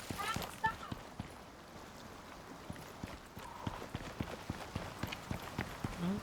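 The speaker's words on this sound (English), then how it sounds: "Well, there's a big horse," Hooves of a big horse in the survival video game Icarus: a steady, quick clip-clop of footfalls at moderate distance, fairly faint, continuing under low background ambience with occasional voices.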